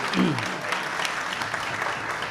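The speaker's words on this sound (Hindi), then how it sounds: "ज़रा ताली वाली बजा के इजाज़त दीजिए सही से" An audience at a mushaira poetry recital applauds, a continuous wash of clapping from a crowd with a brief voice near the start.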